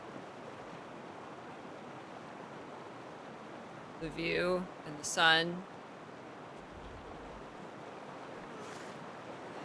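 Water waves lap continuously in a shoreline area of Guild Wars 2: Janthir Wilds as a steady soft wash, while a person briefly speaks over it partway through.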